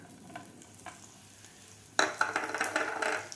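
Dates and cocoa powder being stirred into warm ghee in a pan on low heat, a few faint scrapes at first, then a denser burst of scraping and soft sizzling near the end.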